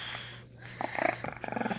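A Shih Tzu puppy growls in short, rough bursts close by, the grumbling pulses building and repeating over a steady low hum.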